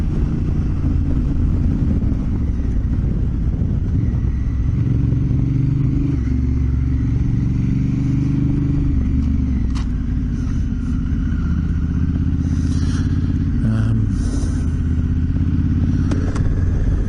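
A Honda Africa Twin motorcycle rides along a rough outback track. Its engine drones loud and constant up close under rumbling wind and tyre noise, with occasional rattles and no talking.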